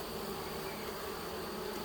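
Honey bees buzz on a hive frame in a nuc yard, a faint, steady droning hum without pause.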